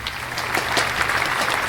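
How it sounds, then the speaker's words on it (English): Steady applause for a podcast guest, a dense, even wash of clapping at fairly close range with no voices over it, brief and sustained throughout. "Hey, a round of applause."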